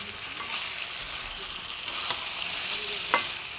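Masala being stirred into mutton frying in a pan, with a steady close sizzle and occasional scrapes and clinks of the spoon against the pan.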